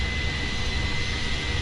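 Steady, loud jet engine roar from an iniBuilds Airbus A310 in Microsoft Flight Simulator 2020, a constant broadband whine and rumble with a high tonal hum, no voices.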